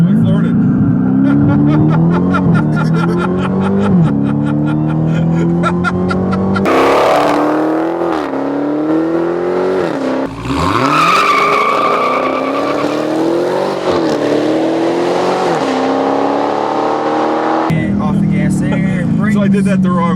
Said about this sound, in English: you notice when you hit the gas, that spun the tires and it shook really bad